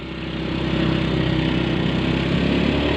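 Motorcycle engine droning steadily while riding through a town in Bireuen, a loud continuous mid-pitched hum close by with no talk over it.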